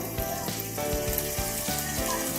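Capsicum frying in oil for pav bhaji gives off a steady, close sizzle with soft crackles, and rhythmic thuds underneath.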